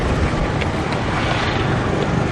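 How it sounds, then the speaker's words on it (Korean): Motorboat engine droning loudly while out sea fishing off Sri Lanka, a constant rough low rumble mixed with wind buffeting the microphone, close and unbroken with no speech. "시끄러운 모터보트 소리에 고기들이 도망가지 않을까 걱정이 됐는데요"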